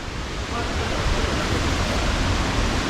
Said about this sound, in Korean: 첫 번째 만난 폭포입니다